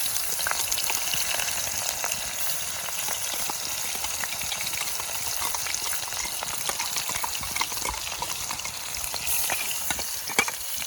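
A ground paste of chilli, ginger and garlic fries in a pan, giving a steady, close sizzle and hiss that runs unbroken throughout with no talking.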